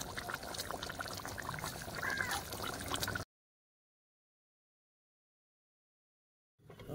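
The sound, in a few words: pouring raw mustard oil into the fish curry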